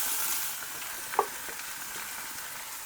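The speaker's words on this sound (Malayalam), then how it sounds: "കുറച്ച് വെളിച്ചെണ്ണ ഒഴിച്ചിട്ട് ഈ സാധനം ഒന്ന് കുറച്ച് സമയം ഒന്ന് വഴറ്റണം" Vegetables, including ash gourd, sautéing in coconut oil at a village cooking spot, a soft steady sizzle with a single brief utensil clink in the middle and no talk.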